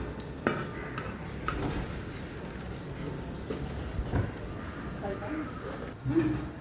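Ragi adai cooking on a pan, flipped to brown the second side: soft scraping and light clinks of a spatula against the pan over a faint steady sizzle, with someone speaking throughout.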